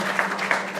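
An audience at a book launch in New Jersey applauds as a poet is invited to recite, a brief burst of clapping with a couple of sharper claps standing out.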